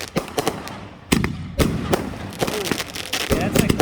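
A large wooden-framed firework cake goes off at a New Year's Eve show in Thibodaux, firing sharp loud bursts that come in an uneven rapid series, with excited voices talking among the blasts.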